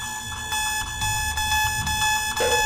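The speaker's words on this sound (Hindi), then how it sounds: "आओ, अलार्म तो चालू हो गया।" An alarm clock rings continuously with a bright, steady electronic tone, fairly loud and alone, with faint low rumbling underneath.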